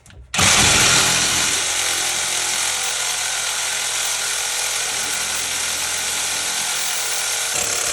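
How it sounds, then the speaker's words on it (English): A power tool with a carbide blade cuts steel for an Airstream axle install, the steel lubricated and cooled with oil: a loud, steady high-pitched grinding whine starts abruptly and runs continuously. "So it only takes 5-6 minutes with a good carbide blade."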